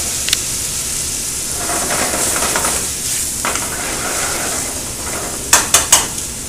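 White wine poured into a hot pan with risotto rice, giving a steady broad sizzle with stirring scrapes, then a few sharp clinks of utensils against the pan near the end.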